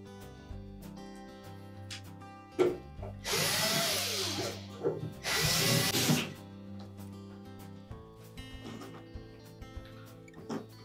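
A power drill drives screws into the back panel of a Whirlpool refrigerator in two loud, close bursts of whirring, each about a second long, with quieter handling clatter and a steady low hum between them.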